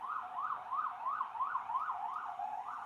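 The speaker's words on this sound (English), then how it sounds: "Sorry if you guys can hear that siren." A wailing emergency siren cycles up and down steadily about three times per second, faint and distant, heard alone with no voices.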